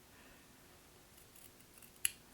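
Scissors give one sharp, close snip through embroidery thread on a stitched jack-o'-lantern pumpkin, a lone click rising over a faint, quiet room.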